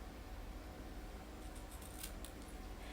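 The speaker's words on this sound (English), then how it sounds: "paper snips and eyeball about the middle and make a slit" Paper snips slicing through cardstock paper while making a tag, a short run of crisp snipping cuts over a steady broadband background hiss, fairly quiet and close, with no talking.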